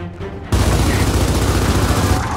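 A torpedo weapon fires in Gears of War 4, bursting in abruptly after a quiet half second with a loud, sustained booming rumble that fills the rest of the moment, with no talk.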